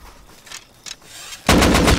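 Video-game gunfire crackles out loud and close in a rapid burst after a couple of faint earlier shots, with no talking.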